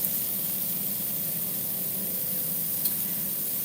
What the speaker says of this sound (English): so I'm going to just throw these onions on here